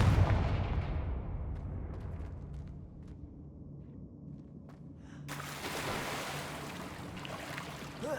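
A Confringo blasting spell explodes in a Harry Potter video game with a loud, low rumbling boom that fades over several seconds, then a second burst of crackling, debris-filled noise swells near the end.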